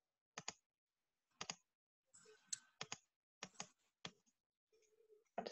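Clicking at a computer keyboard and mouse: a handful of sharp, separate clicks and short tapping bursts, close and fairly quiet, in an otherwise silent room.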